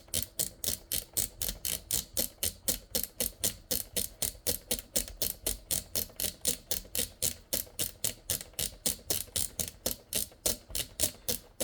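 An RSG G1000 PFD course knob is turned clockwise, giving a long, steady run of sharp, close mechanical detent clicks at an even, rapid rhythm.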